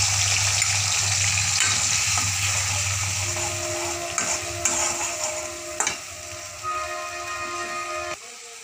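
Spices fry in hot oil and are stirred in a pan: a loud, dense sizzle near at hand, broken by spoon scrapes and a few sharp metallic knocks, with no voices.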